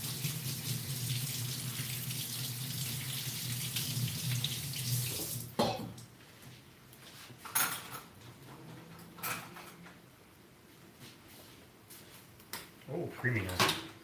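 A cup rinsed under a running kitchen tap: steady rushing water that cuts off abruptly, followed by scattered clinks and handling noises, with people talking nearby.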